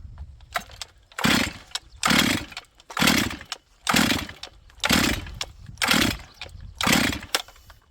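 Auction chainsaw being pulled over repeatedly, giving about seven evenly spaced bursts of rough two-stroke sputter separated by short gaps, near and fairly loud.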